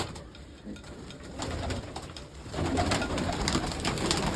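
Pigeons coo softly in the distance, their low murmuring calls repeating over a faint, steady background hum.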